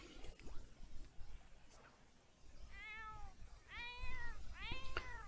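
A cat in The Sims 4 life-simulation game, set in a vet clinic, gives three distinct meows in succession, each a rising-falling call, heard fairly clearly over faint background game sounds.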